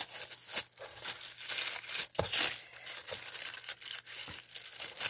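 Close, crisp crinkling and rustling of tissue paper being pulled apart while unwrapping an Advent calendar gift, with irregular bursts and brief pauses.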